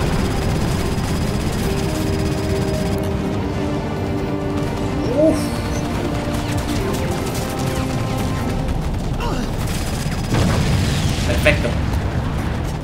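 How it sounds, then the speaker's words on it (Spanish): Helicopter in Crysis Warhead, its heavy rotor rumble droning steadily beneath gameplay with bursts, explosions and crashes breaking through, while a player talks over the action. "Otro helicóptero."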